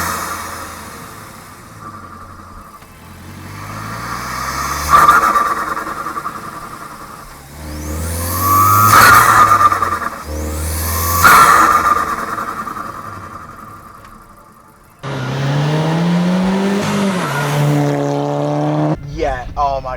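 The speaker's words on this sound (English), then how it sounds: "what amazing noises this car can make." A Volkswagen Golf GTI fitted with an induction kit revs hard in several loud bursts, engine pitch sweeping up and falling back with intake whoosh, close by, followed by a sustained high rev near the end.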